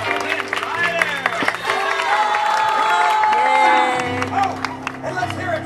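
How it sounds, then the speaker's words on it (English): Audience at a Disneyland Tangled show applauds and cheers for Princess Rapunzel, with clapping, whoops and children's shouts rising together over music, crowd noise filling the space. "who are a round of applause for Princess Rapunzel?"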